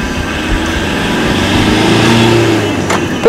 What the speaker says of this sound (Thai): วันนี้ผมมารีวิวรถกระบะเนาะพอมารีวิวรถกระบะเดี๋ยวต้องซิ่งนิดนึงนะฮะ